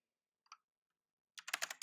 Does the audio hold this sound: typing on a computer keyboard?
yes